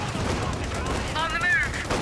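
Battlefield gunfire in the strategy game Company of Heroes, a steady rattle of distant rifle and machine-gun shots running throughout at moderate volume, with a short whistling tone partway through.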